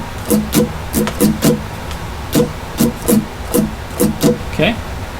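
Acoustic guitar strummed in a steady rhythmic pattern for Hillsong's "One Thing," a close, bright string attack repeating in regular beats with a short gap mid-phrase, no voice.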